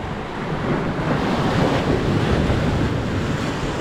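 Ocean waves break steadily on the shore at Arraial do Cabo, a continuous loud roar of surf with wind buffeting the microphone throughout.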